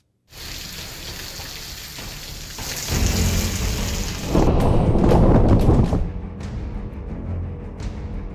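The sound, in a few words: heavy rain falling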